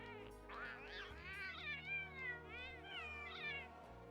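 High-pitched meowing voice of a Palico cat companion in the game Monster Hunter World, a run of several rising and falling meows in close succession over a steady background music bed.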